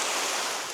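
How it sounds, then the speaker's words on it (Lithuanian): A Cornwall waterfall pours in a steady, dense rush of white noise that holds level for the whole short moment, close and unbroken, with no voices. "Krioklys Magic."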